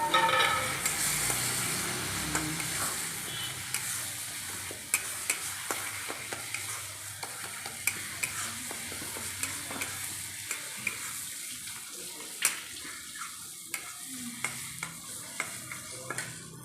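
Grated tomato frying in a pan for a chicken and taro-stem curry, a loud sizzle easing into softer bubbling, punctuated by regular scraping and tapping of a stirring utensil, no voices.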